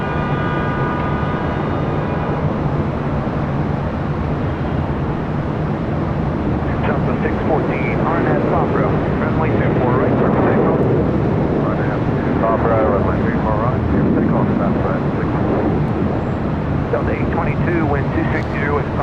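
Jet airliners idle and roll along the runways at LAX, a steady broad engine rumble with a whining tone, joined by wind noise and an occasional voice over the air traffic radio.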